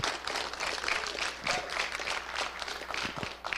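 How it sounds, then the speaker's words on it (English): An audience at the 43rd annual FCCB Scholarship Challenge claps for the judges on stage, a dense and steady wash of many hands that carries on throughout. "applause for the judges, please."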